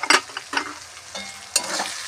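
A spoon stirs cauliflower frying with salt and turmeric in a pan, giving a few sharp scraping strokes over a steady sizzle, close and clear, with no talking.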